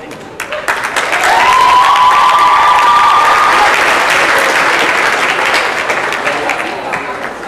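Sustained applause from a large crowd at a vocational school graduation ceremony, swelling within the first second and holding steady and dense throughout, with a faint whistle-like tone briefly riding over the clapping.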